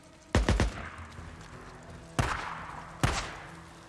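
Gunfire in Days Gone crackles out as a rapid burst of three or four close, sharp shots, followed by two more single loud shots at spaced intervals over a quiet background.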